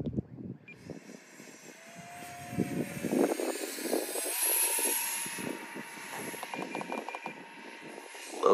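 RC model space shuttle with three electric motors flying overhead, a steady droning whine with a pitch that rises and falls as it passes, carried over wind noise outdoors.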